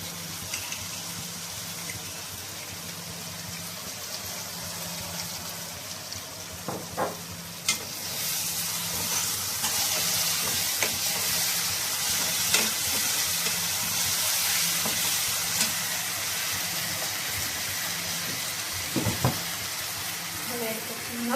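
Fried rice stir-fried in a pan with red chili sauce and dark soy sauce, a loud, continuous sizzle broken by scraping spatula strokes and clacks, with a voice talking now and then.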